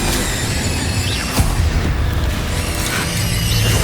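Incendio fire spell cast in Hogwarts Legacy during combat, a loud roaring whoosh of flame with a sharp burst, over dense continuous game noise.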